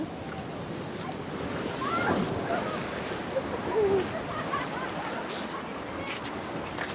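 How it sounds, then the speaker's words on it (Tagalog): Steady wash of surf and rolling waves on a beach at Mariveles, Bataan, with wind buffeting the microphone, a couple of louder surges breaking through the continuous roar. "Naghahampasan na yung mga alon."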